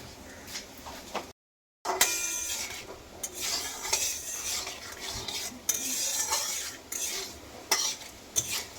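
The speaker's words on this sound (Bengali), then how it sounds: "কড়াইয়ে তেল গরম হয়ে গেছে, দিয়ে দিচ্ছি আমি 5 ফোড়ন, শুকনো লঙ্কা" Bengali five-spice and dried red chillies temper in hot mustard oil in a kadai for green mango pickle, heard as soft sizzling with repeated stirring scrapes and utensil clinks, close by and fairly quiet, with a brief silent gap early on.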